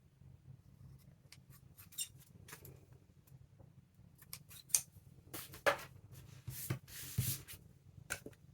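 Scissors snipping excess junk mail envelope paper, quiet close crisp cuts in an irregular series with soft paper rustling between them.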